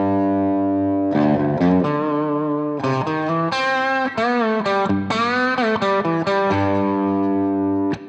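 A distorted electric guitar plays a song's lead lick, loud and close, with sustained held notes broken by bursts of quick bends and fast runs, alone without any voice.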